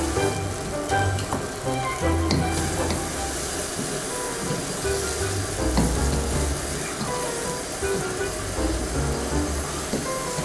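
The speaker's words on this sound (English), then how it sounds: "And now we throw in the beef. Give it a good stir." Beef sizzling and being stirred in sauce in a wok for crispy chilli beef, a dense continuous crackle and hiss with clattering movement, close up throughout.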